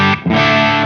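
Electric guitar run through an MXR Sub Machine fuzz pedal into a Synergy BMan preamp module, a short loud burst of thick saturated distortion that cuts out for an instant and then surges back as one sustained fuzzy chord.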